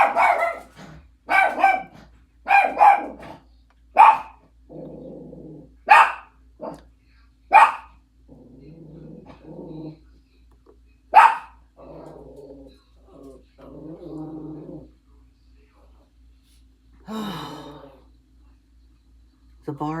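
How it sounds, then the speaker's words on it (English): A dog barks repeatedly in sharp bursts, close and loud, with a person talking in between the barks. "The barking, the barking."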